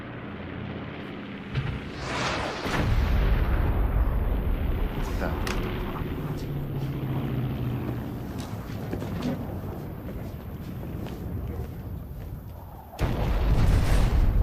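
Ammo dump explosions in an action film: deep rumbling booms roll on continuously, with a sharp loud blast near the start and another heavy burst near the end, dense and powerful throughout.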